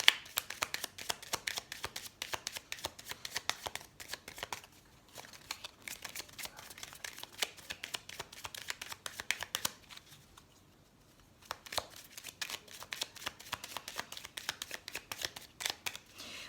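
Oracle cards shuffled by hand at a tarot-style reading, a dense stream of close, quiet riffling flicks continuing for long stretches with two brief pauses, no talking over it.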